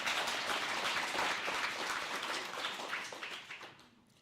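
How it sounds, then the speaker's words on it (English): Steady applause from a crowd, dense clapping that holds for a few seconds then fades out toward the end. "give a big round of applause"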